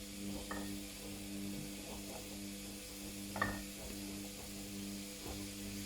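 Lamb pieces browning in a pan as a faint, steady sizzle, with a few light clinks and stirring scrapes breaking in over a constant low background hum.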